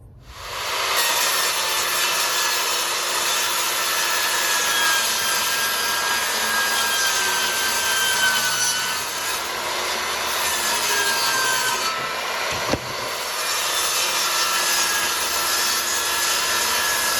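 A jigsaw cuts notches into plywood pieces for a horizontal beehive, a steady loud buzzing rasp that runs almost without a break, with one short pause near the end before the cut resumes.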